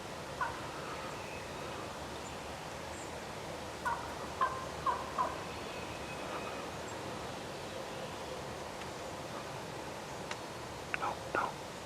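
A big wild Tennessee gobbler sends out several faint, short gobbles from some distance amid quiet woods, with soft whispering from nearby hunters.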